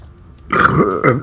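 A deliberate burp drawn out to imitate a monster's growl, loud and close: a rough, throaty burst followed by a second shorter gurgling burp, alone without talk.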